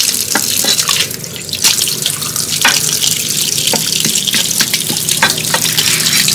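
Catfish being washed clean under running water, a steady loud stream splashing with intermittent sloshes and drips as the fish is rinsed by hand.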